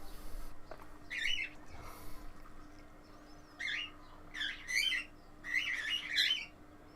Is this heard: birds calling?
yes